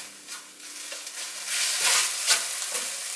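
Onion mixture sautéing in a pan: a steady, close hiss of frying with a few soft scrapes of stirring, and the sizzle builds louder toward the end.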